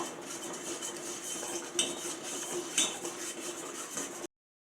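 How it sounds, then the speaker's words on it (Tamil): A spoon works sugar into a seaweed mango pudding mixture in a metal pot, making continuous scraping and swishing with two distinct clinks against the rim, fairly close and without talk. "இப்போ இது நல்லா கலந்து விட்டுக்கலாம்."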